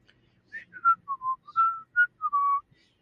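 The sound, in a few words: person whistling a tune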